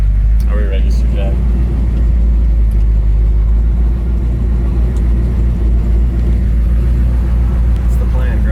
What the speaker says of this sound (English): That's a new Camaro.